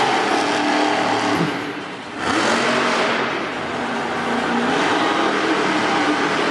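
Kelvin Raymer's yellow Time Flies monster truck roaring through a racing run at Monster Jam in Hamilton, Ontario, a loud engine revving and surging with a brief dip before building again, heard from a distance with crowd noise.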